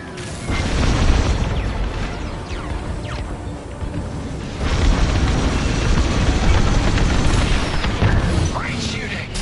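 Shuttles blow up in Star Wars: Squadrons space combat, with heavy booming bursts over a constant roar of engines and weapons. A loud blast near the start gives way to a second rumbling wave midway.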